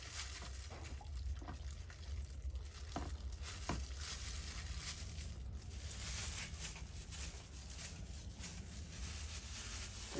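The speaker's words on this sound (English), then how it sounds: "Now I'm going to rinse it off in plain water." A knife blade made from springs is rinsed in plain water, a steady trickling and pattering stream with small splashes running continuously, quiet and close, with no talking.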